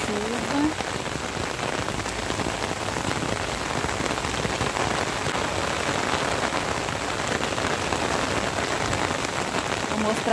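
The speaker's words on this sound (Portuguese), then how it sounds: "Muita chuva." Heavy rain pours down in rural Bahia, Brazil, a thick, unbroken hiss of drops drumming on surfaces, close and sustained throughout, with a faint voice near the start.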